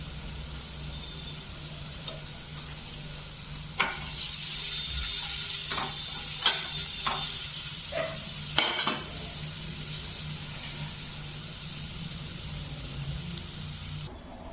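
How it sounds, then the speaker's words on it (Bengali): Potatoes fry with salt and turmeric in a pan, a hissing sizzle that swells after a few seconds, punctuated by several clinking stirs and scrapes, then settling into an even, moderately quiet frying hiss. "এখন আমি আলুগুলোকে ভেজে নিচ্ছি নুন আর হলুদ দিয়ে"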